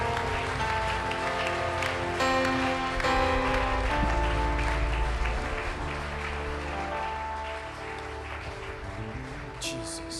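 A church congregation claps to welcome a preacher at a morning service, sustained applause mixed with organ or keyboard music and voices, loud at first and then gradually fading.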